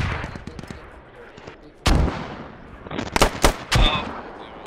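Mortar fire and impacts in Squad, a US mortar barrage with several sharp booms and cracks spaced irregularly over a background of distant gunfire, loud and close, with radio chatter around the blasts.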